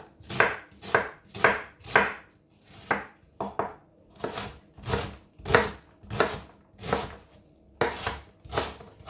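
A knife chops through half an onion on a cutting board in steady, evenly spaced strokes, about twelve crisp cuts close up with short pauses, no voices.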